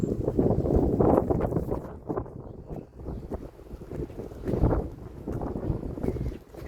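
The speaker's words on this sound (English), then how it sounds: "I got a little windy." Gusty wind buffets the microphone in rough, uneven bursts, loud at first, easing mid-way, then building again.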